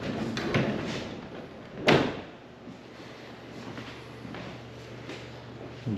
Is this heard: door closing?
yes